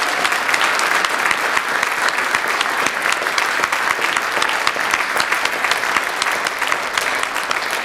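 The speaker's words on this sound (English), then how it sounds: "one more round of applause for all the finalists" An audience at an oratorical contest applauds the finalists with dense, sustained clapping that fills the hall evenly from start to finish, loud and steady.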